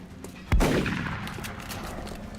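A single heavy shotgun blast from a turn-based XCOM Long War tactical battle, one sharp close boom that rings out and decays slowly into a rumbling tail.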